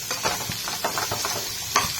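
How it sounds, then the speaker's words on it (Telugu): Onions fry in a pan toward golden brown for Telangana fish curry, giving a close, continuous sizzling hiss with soft periodic scrapes and stirring taps. "ఆనియన్స్ గోల్డెన్ బ్రౌన్ కలర్ వచ్చే వరకు వేయించుకోవాలి."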